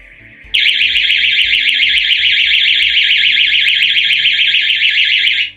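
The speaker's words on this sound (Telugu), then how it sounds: "ఇప్పుడు మనం ఒక సైరన్ ఎలా అవుతుందో ఒకసారి డెమో చూద్దాం" A loud, steady electronic siren of a wireless intrusion alarm system wails continuously with a rapid warbling tone, starting abruptly after a brief quieter tone and cutting off at the end.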